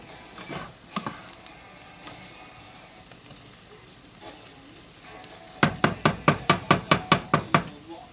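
Onions sizzling steadily in a pan as they start to brown, with a utensil stirring and then tapping in a quick, even run of about a dozen knocks.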